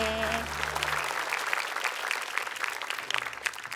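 An audience claps together for a child reciting in a Quran memorization competition, a dense burst of many hands that begins as a low tone fades out and continues steadily to the end.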